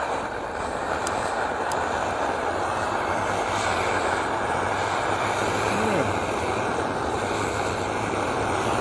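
An MSR XGK EX camping stove burns with a steady, dense roar after its fuel is turned up, a constant broadband rush that holds evenly from start to finish with no pauses.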